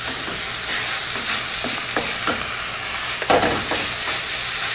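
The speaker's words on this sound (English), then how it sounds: "A quick stir around." Green beans with ground cumin, lemon juice and fresh coriander stirred in a hot pan for a North Indian lunch: constant close sizzle broken by several quick scraping stirs, no voices.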